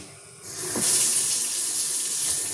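Tap water runs into a sink as freshly bought food is washed, a steady close rush that starts after a quiet moment and continues to the end.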